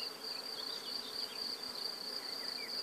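A honeybee swarm buzzes steadily during a swarm capture, a dense continuous hum of many bees close to the microphone.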